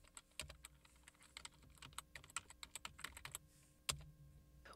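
Someone types a short folder name on a computer keyboard: a close, quiet run of irregular key clicks, then a single firmer tap like the Enter key, with no speech.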